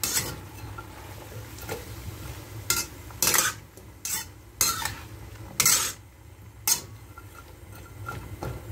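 Pinakbet vegetables with bagoong being stirred in a simmering pot, a soft bubbling bed under a series of scraping, clattering utensil strokes against the pot, some louder than others, with no talking.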